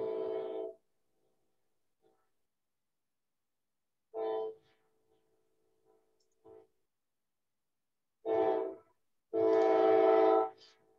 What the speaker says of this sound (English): You hear the whistle? Yeah, we can hear it.